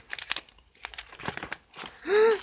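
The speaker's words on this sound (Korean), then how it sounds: "여기 한번 뜯어볼게요" Packaged EXO merchandise bag being torn open by hand: crinkly plastic rustles in short bursts, close and fairly loud, ending in a brief sustained tone as a voice briefly reacts.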